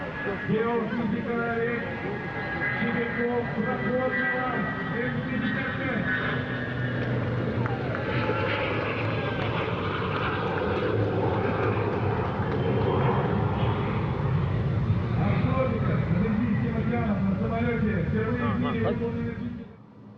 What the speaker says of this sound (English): The twin-engined M55 Mystic B that we see here first flew in 1988